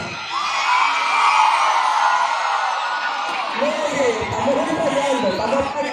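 A crowd shouts and whoops together in a loud, sustained burst, voices overlapping and swelling before settling into scattered yells.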